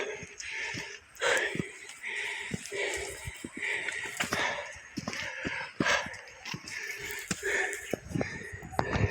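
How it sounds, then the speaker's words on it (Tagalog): A person harvesting coconuts pants heavily while carrying a heavy load, with rapid rhythmic breaths and wheezes, close and loud, mixed with rustling and footsteps throughout. "Hinihingal na ako."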